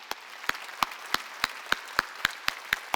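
A church congregation at a Wednesday worship service claps in unison, about ten evenly spaced sharp claps in a steady rhythm, moderately loud with a quiet room tone between beats.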